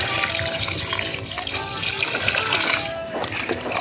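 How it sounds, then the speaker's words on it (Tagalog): Water pours out steadily from a bucket in a loud, continuous splashing rush onto plants in the ground nearby. "Buhusan natin para makainom siya ng tubig"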